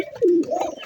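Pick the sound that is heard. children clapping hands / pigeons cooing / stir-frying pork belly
pigeons cooing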